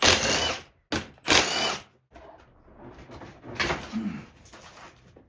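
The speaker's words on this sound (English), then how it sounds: "we're gonna go ahead and take these 2 bolts off to take the seat back off" A power driver spins out the bolts holding the seat back of an Acura TL, with several loud whirring bursts and short gaps, followed by softer mechanical rattles and handling noise.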